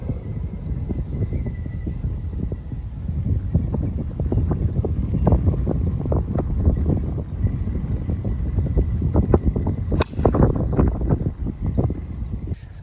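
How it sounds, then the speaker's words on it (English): Wind on an outdoor golf course buffets the microphone in a steady, loud, low rumble that gusts unevenly throughout, with one brief sharp knock near the end and no talking. "Little bit of a wind from left to right"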